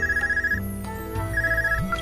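A portable orbment communication device in the video game Trails of Cold Steel rings like a phone, giving two trilling electronic bursts separated by a short gap, clear and alone over quiet background music.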